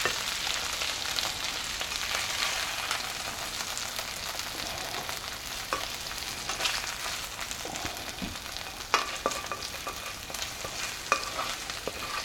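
Fried breakfast potatoes being pushed and scooped in a tilted pan of hot grease, a steady close sizzle with scattered scraping and clicking of the utensil, no voices.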